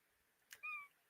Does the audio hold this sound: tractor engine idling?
no